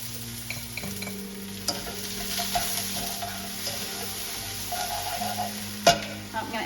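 Onion, spring onion and garlic sizzle and get stirred in a hot pan for a hoisin pork mince stir-fry, a steady close crackle with occasional scraping of the utensil and a brief clatter near the end.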